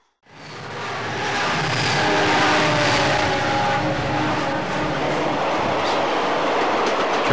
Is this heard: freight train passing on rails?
yes